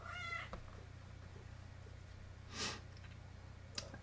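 A house cat that wants to go outside lets out one short meow at the start, followed by a faint breathy snort and a soft click over a low, steady room hum.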